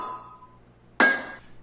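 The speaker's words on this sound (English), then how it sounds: "It's just a hammer hitting an anvil." A hammer strikes an anvil once, giving a sharp, bright metallic clank that rings briefly in isolation after a fading tone, used as a sound effect sample.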